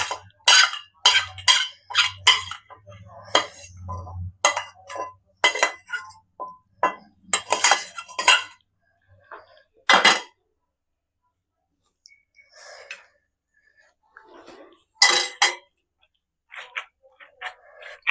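Roti pachadi chutney with tamarind leaves being ground by hand in a stone mortar, with clinking and knocking taps in uneven bursts, close and fairly loud, then sparser strokes with pauses.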